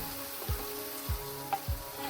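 Onion, capsicum and green chilies stir-frying for chilli chicken, a soft low sizzle broken by three or four dull scraping stirs at an even pace.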